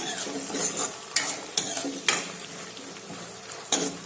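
Chopped tomato being sautéed with onions and chilies in a pan for paneer bhurji, soft sizzling under a series of sharp spoon-against-pan stirring scrapes and clinks, close and alone without speech.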